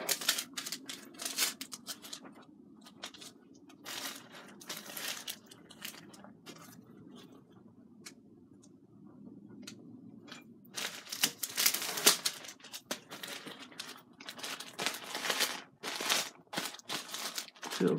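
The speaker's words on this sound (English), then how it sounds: "Peel back one edge. This adhesive on the back. So just stick it on there." Adhesive shipping label being peeled back and pressed onto a mailing package, with crinkly peeling and sticking noises, soft at first and louder, busier rustling and taps later, close up, no talk.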